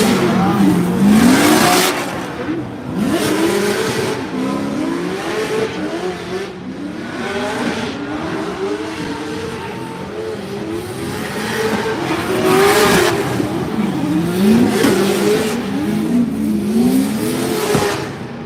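Formula Drift drift cars warming up at the New Jersey PRO round, engines revving hard and wailing in sweeping pitch rises and falls, loud and continuous throughout with bursts of throttle and tire noise.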